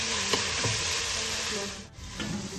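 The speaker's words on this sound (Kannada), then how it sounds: "ಸೊ ಇವಾಗೆಲ್ಲ ಈರುಳ್ಳಿ ಟೊಮೆಟೊ ಎಲ್ಲ ಒಂದು ಸ್ವಲ್ಪ ಹಸಿ ವಾಸನೆ ಹೋಗೋ ತನಕ ಫ್ರೈ ಆಗೋಷ್ಟರಲ್ಲಿ" Onion, tomato and ginger-garlic paste sizzle steadily in a pan for hulao, with a few spoon stirs and scrapes breaking through the continuous frying hiss, close and fairly loud.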